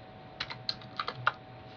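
Several quick keystrokes typed on a computer keyboard into a Google search, about seven close, light clicks in an uneven burst, alone in a quiet room.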